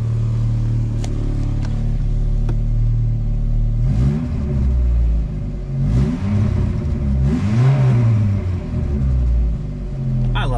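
A Mk2 Volkswagen Jetta with a homemade exhaust idles with a deep, steady rumble, then revs up in three rising and falling pulls, each swell climbing in pitch before settling back to idle, loud and close.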